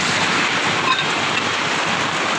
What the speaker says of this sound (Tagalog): Bungus ang malakas na ulan.